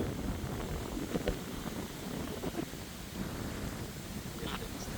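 Strong wind buffets a microphone outdoors under a dark, cloudy sky, making a continuous low rumbling roar with uneven gusts throughout.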